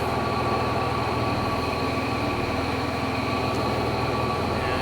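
A Detroit Diesel engine fitted in a Dodge is cranked over, producing a loud, steady mechanical drone with a fast pulsing rhythm close by, continuous for several seconds without talk.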